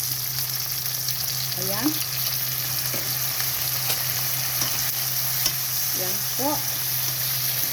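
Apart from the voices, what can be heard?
tomatoes being sautéed in a pan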